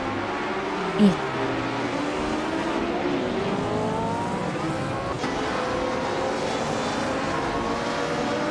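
Racing car engines in a video game race, including a Ferrari 1512: several engines drone and rise in overlapping sweeping pitches at moderate distance, with a commentator speaking over them throughout.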